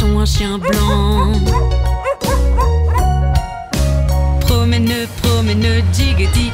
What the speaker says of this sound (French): marché, achetons un chien blanc.